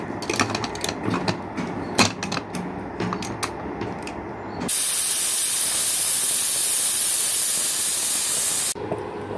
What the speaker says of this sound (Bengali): প্রেসার কুকারের মুখটা বন্ধ করে দিব। দেওয়ার পরে 2-3টে সিটি পর্যন্ত অপেক্ষা করব।